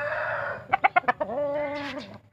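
A young rooster clucks in a quick run of five short, sharp notes, then lets out a drawn-out, wavering call, close and clear.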